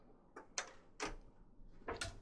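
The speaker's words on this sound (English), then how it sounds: "Need to close the door." A cabin door on a 2024 Lagoon 55 catamaran slides and shuts with a few quiet knocks and a latch click, close by in a calm interior without speech.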